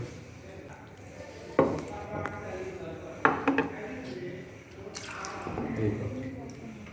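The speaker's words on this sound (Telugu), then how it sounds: "మనం వాటర్ని గ్లాస్తో అలాగా కొంచెం కొంచెం వాటర్ వేయన్నా" Water from a glass is poured bit by bit over a Ganesha idol sitting in a bowl, making soft splashes and drips with a few sharper clinks, under a person talking.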